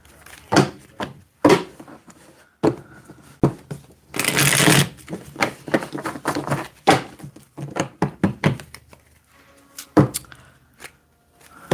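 During a tarot reading, a deck of cards is shuffled in repeated crisp riffles and flutters, with soft taps and thumps between bursts. Busy and close, with no talk over it.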